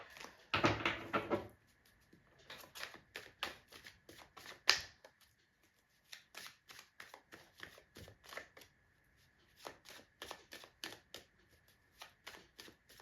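Tarot cards being shuffled by hand close up: an initial dense riffle burst, then a long run of quick, light card slaps and clicks in uneven rhythm, soft and quiet with no talking.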